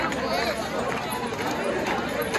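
Dense crowd noise at the entrance of Prem Mandir temple in Vrindavan, a steady wash of many overlapping voices and shuffling footsteps, close and continuous throughout.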